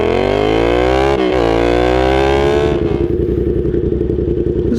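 A Yamaha FZ-07 motorcycle fitted with a Danmoto XG-1 full exhaust system roars loud and close, holding a steady rev with a brief dip before settling into a rough, throbbing idle.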